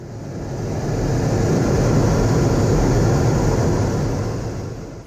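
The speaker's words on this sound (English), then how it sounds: "The F-18 Super Hornet is a multi-role fighter aircraft that is the backbone of the United States Navy." A U.S. Navy F-18 Super Hornet multi-role fighter jet roars past on an aircraft carrier, its dense broadband rumble swelling to a loud peak and then fading over a few seconds.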